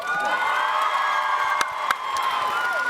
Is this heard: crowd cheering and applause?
yes